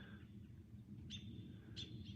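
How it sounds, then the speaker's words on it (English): Small birds in trees give a few faint high chirps and short calls, distant and sparse over a low steady background rumble outdoors in Idaho. "You can hear the birds in the trees."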